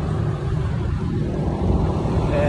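Steady road traffic rumbles continuously on a busy rainy street, a dense, fairly loud wash of engine and tire noise with no clear individual pass-bys.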